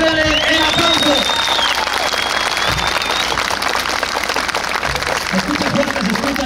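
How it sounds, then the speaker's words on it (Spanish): A rodeo crowd at a bucking-horse tournament in Mexico applauds a rider, broad clapping and crowd noise over an announcer's amplified voice, with a whistle or shrill call rising above early on. "su jinete Colibrí de Quiroga, Michoacán, regálenle el aplauso"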